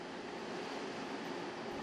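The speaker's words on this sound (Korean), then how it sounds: "그곳에서 진아는 열차를 만났다" A train runs through the undersea Seikan tunnel, giving a steady, dense rumbling roar with no breaks, loud and enclosed, with no voices.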